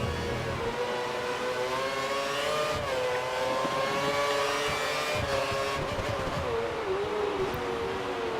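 Formula-style race cars on the Catalunya circuit in a racing video game, a sustained high engine whine that rises and falls with gear changes and passing cars, steady and fairly loud throughout.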